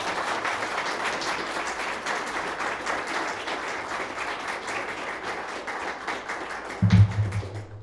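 An audience at a Tattered Cover book event applauds steadily in welcome for author Alex Prud'homme, a dense, even patter of clapping lasting several seconds with a few louder thumps near the end.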